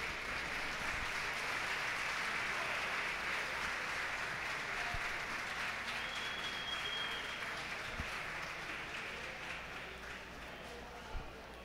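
Faint, distant audience applause at the Spanish national spearfishing championship, a soft steady patter of clapping that slowly fades, with a few isolated thumps near the end.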